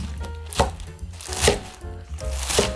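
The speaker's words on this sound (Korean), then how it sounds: "한 3cm 길이로 썰어주시면 돼요" A knife chops green onions (jjokpa) into roughly 3 cm lengths for galchi kimchi, three distinct thuds on a cutting board, evenly spaced about a second apart, over soft background music.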